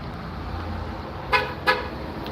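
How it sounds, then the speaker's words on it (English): Two short car horn toots sound in quick succession, fairly loud and distinct over a steady outdoor traffic hum on a small-town street. "I got someone honk at me and wave and not give me the finger."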